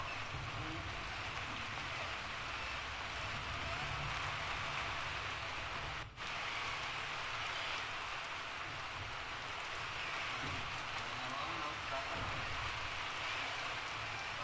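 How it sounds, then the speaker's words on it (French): Steady heavy rain at sea hisses and pours continuously aboard a racing sailboat during a thunderstorm, a dense even wash of sound with no voices. "Il pleut pas mal."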